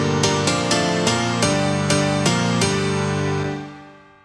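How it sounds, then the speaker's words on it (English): Bright M1 piano chords with saturation and EQ for a future house track, struck as a loud, rhythmic run of evenly spaced stabs that ring out and fade at the end, with no voices. "I just used the M1 piano, a bit of saturation from the Camel Crusher."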